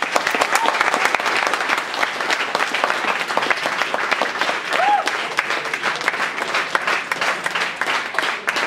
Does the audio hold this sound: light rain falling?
no